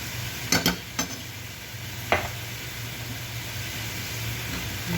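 Spoon stirring zucchini boat filling seasoned with vegetable cube and coriander powder in a pan, a few sharp scraping clacks over a low steady sizzle, no talking.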